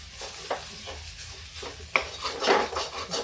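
Mashed potato chokha roasting in a little oil in a pan on a low flame, soft sizzling under repeated scraping and stirring strokes of a spatula against the pan, with occasional clinks.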